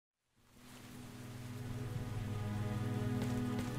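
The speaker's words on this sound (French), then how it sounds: "Donc on court sous la pluie." Rain in the video game Mr. Hopp's Playhouse 3 fades in from silence to a steady, full hiss of falling water over a low droning hum, with no voices.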